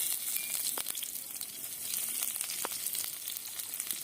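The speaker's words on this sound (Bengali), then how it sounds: "পাঁচফোড়ন থেকে খুব সুন্দর ঘ্রাণ বেরোলে দিয়ে দেব রসুন কুচি" Chopped garlic sizzles steadily in hot oil with panch phoron, a dense, even hiss close up with a couple of faint clicks of a utensil and no talk.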